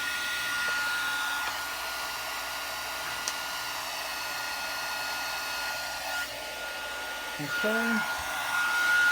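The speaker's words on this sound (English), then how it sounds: "bring in our heat tool" A handheld heat tool blows a steady loud rush of hot air to melt embossing powder on a card, running continuously with a brief spoken word near the end.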